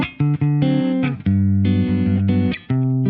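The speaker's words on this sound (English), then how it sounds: "going from humbucker to single coil, so here's the humbucker." An electric guitar on its humbucker pickup, played through an Axe-Fx or Kemper amp-modeler preset, rings out in loud, sustained chords and notes with short breaks between strums, heard alone.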